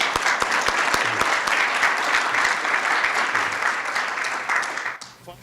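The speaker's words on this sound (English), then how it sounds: "A round of applause for all of them." A symposium audience on sea level rise gives a round of applause, with many hands clapping in a steady, dense wash over five seconds before it thins out at the end.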